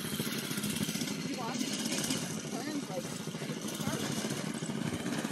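A race kart engine buzzes and revs steadily at a middling distance, a continuous rough drone mixed with outdoor noise while people talk and cheer over it.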